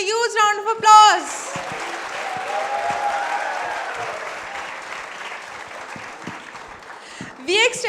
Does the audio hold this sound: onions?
no